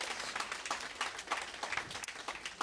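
An audience applauds at an internal communications tour stop in Le Mans, a faint, steady patter of clapping from a small crowd, distant and continuous, with no voices over it.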